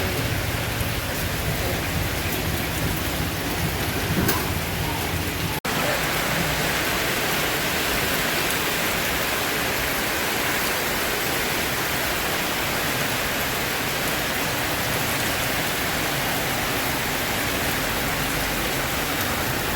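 Steady downpour in Jaffna, a thick unbroken hiss of heavy rain on surfaces lasting the whole stretch, with one brief sharp knock early on and no talk.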